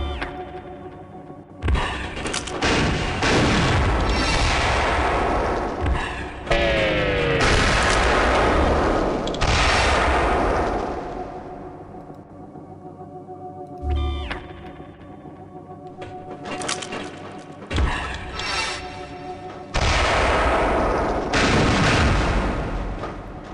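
Repeated heavy booms and crackling blasts from cluster bomb explosions in the game Gunman Chronicles at a firing range, rolling in bursts with sci-fi electronic tones and sweeps between them.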